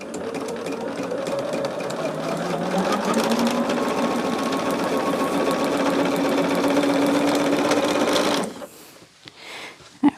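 A sewing machine stitches fabric, piecing quilt blocks while it tends to grab the material. It runs steadily and loudly for about eight seconds, then stops, leaving a few quiet handling noises.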